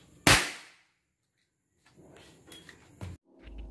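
A single loud, sharp firecracker bang during Eid celebrations opens with a short decaying tail, followed by quieter rustles and knocks nearby.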